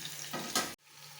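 Fish fry sizzles steadily on a hot tawa once the lid comes off, a brief louder burst of hiss before a sudden drop, then a quieter continuing sizzle alone.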